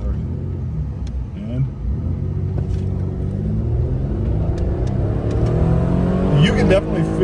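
A Mitsubishi Pajero Evolution launches hard, its engine note climbing steadily in pitch as it accelerates, loud and close with people talking over it.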